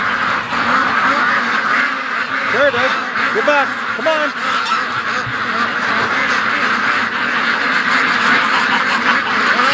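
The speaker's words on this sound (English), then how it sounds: "let's see if we can get the ducks to come out here" Ducks raised outdoors quack and honk repeatedly against a constant roar of strong wind, fairly close, while someone talks and calls to them.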